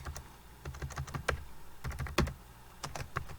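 Typing on a computer keyboard while a new folder is named: irregular runs of crisp keystrokes, close and moderately loud, with short gaps between bursts.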